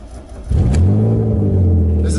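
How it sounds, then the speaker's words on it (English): A BMW E36 engine cold-starts with a brief starter crank, then catches into a loud, deep, steady idle rumble, heard from inside the car with the windows up. "But I'm going to give it a cold start."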